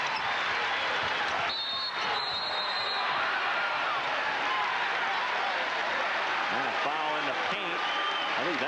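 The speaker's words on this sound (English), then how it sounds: "This crowd, after that 12-0 spurt, wants to cheer again." A college basketball arena crowd during a 1992-93 Iowa State vs Minnesota game cheers and applauds in a continuous loud roar, with a commentator talking over it throughout.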